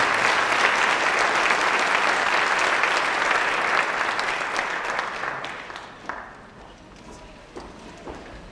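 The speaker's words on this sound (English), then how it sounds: "Let's give one more round of applause for these seniors." Sustained audience applause at a high school senior awards ceremony, thick and even at first, then tapering to scattered individual claps over the last few seconds.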